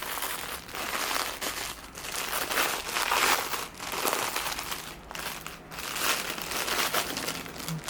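A package of DMC embroidery threads is opened with steady, close crinkling and crumpling of plastic wrapping, continuous rustling with brief dips, quiet and with no speech.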